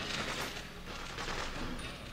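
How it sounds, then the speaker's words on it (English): Gunfire rattles from the video game Freedom Fighters, a dense, fairly faint burst of overlapping shots with no pause over two seconds. "They're shooting at us!"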